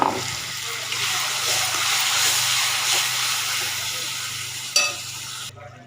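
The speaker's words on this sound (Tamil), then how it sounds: "நாலு பல் பூண்டு ஒரு வெங்காயம் இதை போட்டு நல்லா பொன்னிறமாக வதக்கிடுவோம்" Four cloves of garlic and an onion sauté in an oiled pan for a Tamil curry, with a steady close sizzle and stirring scrapes throughout and a brief clank just before it cuts off.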